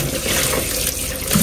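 Tap water runs steadily into a sink as fish are washed, a close, continuous gushing splash with no voices.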